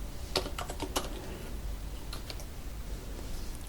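Keys clatter on a computer keyboard in a quiet room, a few quick clustered taps near the start, then a short pause and a couple more, faint and close over a low background hum.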